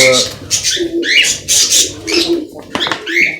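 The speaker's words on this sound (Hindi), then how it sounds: "फ़िलहाल तो मेरे इन बर्ड्स का बाथ टाइम शुरू है" Pet cockatiels and budgies chirp and call in quick, close, bright bursts while they bathe in summer heat, with scattered splashy rustles beneath the calls.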